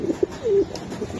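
A racing pigeon coos close by in a low, throaty voice: a couple of short soft notes and then a longer rolling coo, set against light background noise.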